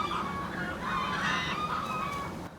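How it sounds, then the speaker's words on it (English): A flock of chickens clucking with a rooster crowing, heard outdoors behind a bait shop along the water; steady overlapping bird calls, moderately loud and continuous throughout. "Dude, that's a whole gaggle of chickens back there."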